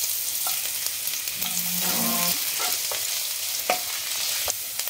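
Chopped ginger and garlic fry in a pan, a steady sizzle punctuated by spatula scrapes and taps, close up with no speech.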